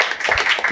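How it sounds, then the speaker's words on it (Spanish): Short burst of audience applause at a boating talk show, a dense patter of claps that sounds fairly close and steady for under a second. "Un aplauso para él."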